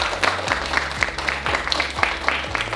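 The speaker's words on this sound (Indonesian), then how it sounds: "Mari kita tepuk tangan untuk kita semua." A classroom of schoolchildren claps together, a lively stretch of quick claps over a low steady hum.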